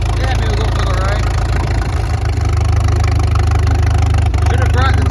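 An antique John Deere tractor engine idles loud and close, a steady low rumbling drone that holds throughout while someone talks nearby.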